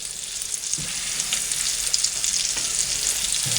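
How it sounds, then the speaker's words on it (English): Steady, crackling sizzle of rabbit meat frying in hot grease, close up and continuous, with a few faint clinks of utensils. "you want it good and hot enough to start frying as soon as you put it on there"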